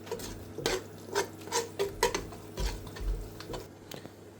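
Bhungra with potatoes being stirred in a pot, with a steady series of soft scraping and clinking strokes of a spoon against the metal, close and fairly quiet.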